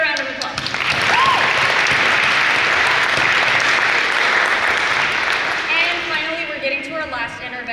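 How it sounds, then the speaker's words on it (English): An audience gives a loud round of applause that swells and holds for several seconds, with cheering voices and talk rising as it tapers off. "Another round of applause."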